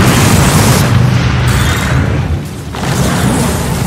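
A tower collapses in the Dota 2 video game with a loud, heavy booming explosion and a rumbling crumble that fills the moment, fading briefly before the rumble resumes.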